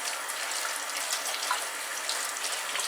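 Tap water running into a sink while a comb is rinsed under it, a steady hissing splash with small spatter variations, close and continuous with no voices.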